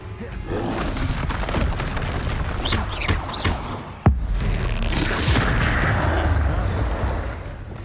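An Expelliarmus spell fires in the Hogwarts Legacy video game amid loud, rumbling combat effects, with one sharp impact crack near the middle over continuous booming game noise.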